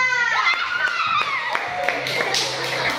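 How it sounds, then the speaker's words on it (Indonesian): A classroom of children claps for their classmates, with sharp individual hand claps rising into a denser patter as young voices chatter and call out over them. "Tepuk tangan dulu untuk teman kita"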